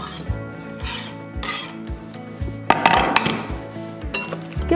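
A utensil scrapes and rasps against a bowl in a rhythmic stirring motion, with occasional clinks, as seasoning, salt, pepper and fresh chives are mixed into a batter.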